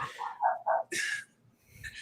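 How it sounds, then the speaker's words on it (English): A dog gives a few short, close barks and yips in quick succession, followed by a brief pause and a softer whimpering sound, with no talking. "My dog won't stop barking."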